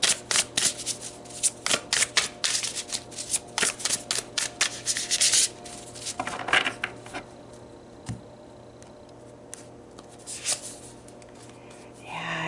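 Tarot cards being shuffled by hand, a close, steady riffling and sliding of card stock in busy bursts that thin into scattered soft taps and rubs toward the end, with no talking.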